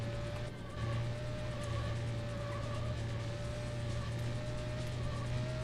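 Porsche engine in the PC racing game Need for Speed: High Stakes, a steady droning car hum with a constant pitched whine, moderately loud and unbroken throughout.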